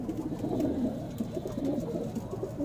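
Small green-eyed Madrasi Punjabi pigeons in Delhi give soft, low, continuous cooing that rolls and swells at close range, with no talking.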